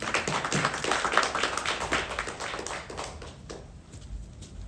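A timekeeper at a Tamil debate taps rapidly to signal time up, loud and close for a few seconds, then thins out and fades into quiet room noise.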